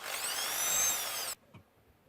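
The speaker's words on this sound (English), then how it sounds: "So the next step is drilling the holes in." A high whining power drill boring holes in wood runs for over a second, close and loud, then cuts off abruptly, followed by a faint knock.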